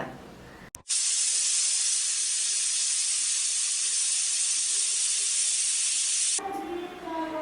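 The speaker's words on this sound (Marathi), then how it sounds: "त्याच्यावर आपण चार शिट्ट्या करून घ्यायच्या" A pressure cooker cooking rice lets off a loud, steady rush of hissing steam that starts abruptly, holds for about five seconds, then cuts off.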